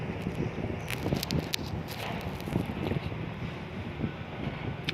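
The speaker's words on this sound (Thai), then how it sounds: "ลมมาฝนจะมาละ" Gusty wind buffets the microphone in a continuous rough rumble, with faint rustling and occasional sharper gusts throughout.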